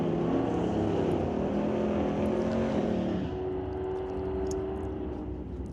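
A drag racing car at an NHRA Northwest National Open Series pro race roars down the strip doing a wheel stand, a loud sustained engine howl that stays strong, then eases slightly as it pulls away.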